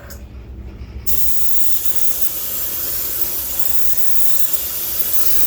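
An airbrush sprays a green pumpkin mix of moss green and transparent brown paint onto a Megabass 110 blank Ghost Minnow fishing lure, a steady close hiss that starts abruptly after a second of quieter mechanical rattle.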